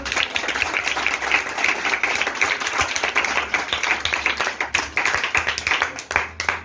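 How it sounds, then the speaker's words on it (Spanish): A ninth-grade classroom applauds the participants with dense, lively hand clapping that carries on throughout, thinning into more distinct individual claps toward the end. "Un aplauso para todos."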